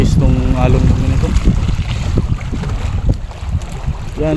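Small wooden fishing boat pitching on rough sea swells, with steady low rumble of water and wind buffeting the microphone throughout, and a voice talking over it.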